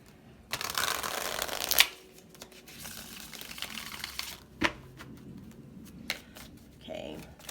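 Tarot cards are shuffled up close in quick riffling bursts, with a crisp snap as the deck closes. Softer handling, tapping and card-laying sounds follow.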